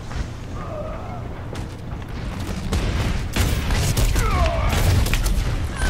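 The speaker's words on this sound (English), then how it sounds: "Where am I getting shot from?" Gunfire rattles in an Overwatch quick play match, repeated sharp bursts and booms over busy game noise, with a voice speaking at times.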